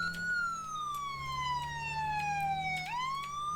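Ambulance siren in the Roblox ERLC emergency-response game, a loud, close wail whose pitch glides slowly downward for nearly three seconds, then snaps back upward; no one talks over it.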